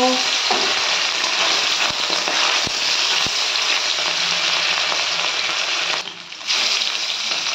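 Hilsa fish frying in hot mustard oil in a wok, a steady loud sizzle that holds throughout with a brief dip near the end.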